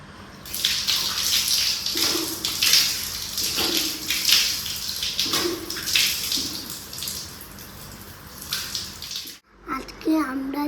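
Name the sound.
tap water running while washing face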